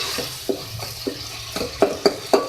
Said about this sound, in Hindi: इस टमाटरों को जो हम तोड़ लेंगे, मैश कर लेंगे जब ये सॉफ्ट हो जाए इस तरीके से।